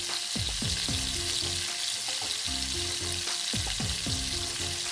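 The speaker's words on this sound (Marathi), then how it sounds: "बॅटर मेकरच्या बॉटलमध्ये ओतायचं आणि मग गिट्सच्या तुपात छान गोल गोल फिरवत तळायचं" Jalebi batter made from a Gits mix sizzles steadily in hot Gits ghee as it is piped in round coils, a continuous close frying hiss under a backing music track with no talking.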